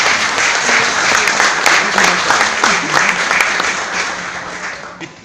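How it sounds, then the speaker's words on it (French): Loud, dense clapping from a large crowd fills the whole stretch, steady at first and tapering slightly toward the end. "Je vous demande de l'applaudir chaudement."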